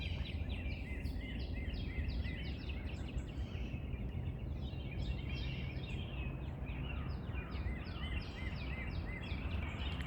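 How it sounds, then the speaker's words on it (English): Birds chirp outdoors behind a house in the morning, a steady chorus of small repeated calls, faint and distant over a low rumbling background hum. "Sometimes you just gotta step outside and listen to the birds."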